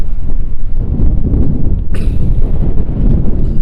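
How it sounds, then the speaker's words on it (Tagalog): Heavy, low rumbling wind buffets the microphone continuously on the open sea, loud and close, with a brief brighter gust midway. "lakas ng hangin"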